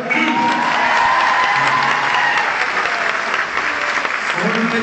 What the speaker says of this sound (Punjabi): ਜ਼ੋਰਦਾਰ ਜ਼ੋਰਦਾਰ ਤਾੜੀ ਮਾਰੋ